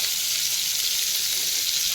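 Bitter gourd (ustaa) hits a hot pan of dried chillies, green chillies and onion, giving a loud, steady sizzle of frying close by with no voices.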